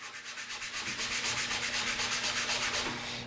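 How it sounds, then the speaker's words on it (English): A power sander runs lightly over a cedar hot tub stave, a steady, close, buzzing abrasive whir with a fast pulsing rhythm, continuous and moderately loud with no talking. "Use a sander and sand the top and the bottom of that area lightly."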